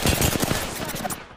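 Rapid automatic gunfire in the video game Apex Legends, a dense, loud burst of quick shots lasting about a second, close and harsh.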